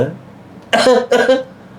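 A man coughing twice in quick succession, close and loud, the two harsh bursts following a quiet moment.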